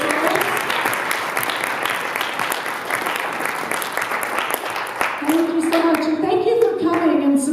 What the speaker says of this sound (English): One more round of applause for all of these great